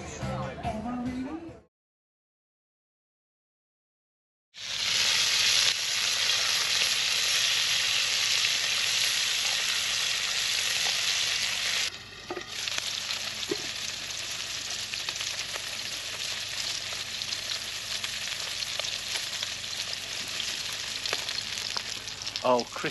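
Food frying crispy at a stall at a motorhome show on a showground, a loud, close, continuous sizzle and hiss that carries on steadily for about twenty seconds after a brief silence, with voices talking over it.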